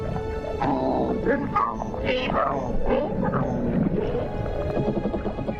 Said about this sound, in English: Two Walkman fish are noisily trying to woo a female.